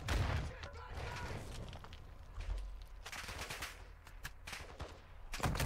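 Bursts of automatic gunfire crackle and boom across a match of Call of Duty: Warzone 2.0, rattling in repeated volleys of varying distance, with a player's voice occasionally heard beneath the shooting.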